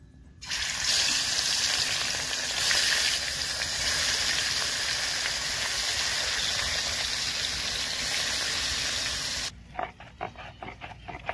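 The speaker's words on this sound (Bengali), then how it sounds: "আলু ভাজা ওই তেলে মাছ ভেজে নিব" Rohu fish pieces rubbed with salt and turmeric frying in oil left from frying potatoes, a loud, steady hiss that holds for about nine seconds before cutting off to quieter clinks and crackles.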